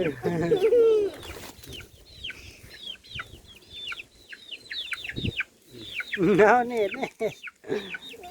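Farmyard chickens cluck and chirp at feeding time, a rooster among them, a busy chorus of short calls close by with someone talking over them.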